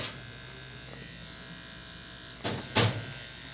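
Electric hair clippers cut a young boy's hair with guards fitted, a steady, close mechanical buzz humming throughout, broken near the end by a couple of short bumps or knocks.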